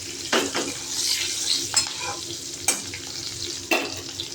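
Five-spice seeds and slit green chillies fry in a little oil in a wok, making a steady close sizzle punctuated by several sharp scrapes and knocks of a stirring spoon against the metal.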